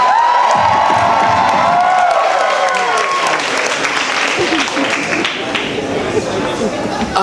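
Loud comedy-club crowd in New York cheers and claps for a comedian, with whoops and shouts over dense, sustained applause that stays strong from start to finish.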